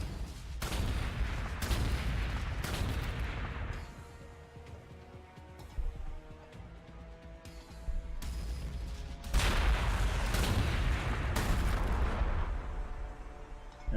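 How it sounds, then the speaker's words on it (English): Heavy artillery shells pound a Necron city in the strategy game Warhammer 40,000: Gladius, loud booming volleys in bursts with a quieter stretch of rumbling and clatter between them. "let's just hit the city with the artillery"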